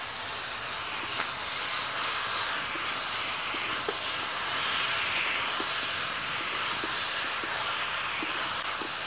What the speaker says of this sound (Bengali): মাংস আর পেঁয়াজটাকে একটু ভেজে নেব